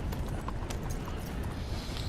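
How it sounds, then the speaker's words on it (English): Horse hooves clopping steadily on the ground in Red Dead Redemption 2, a continuous rhythmic gallop under a dense ambient game soundscape, no talking. "At this point, I'm just getting back on my horse."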